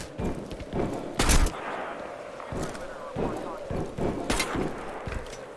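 Gunfire in Crysis 2 Remastered, several sharp, loud cracks scattered irregularly across a busy battle din, with voices shouting over the shots.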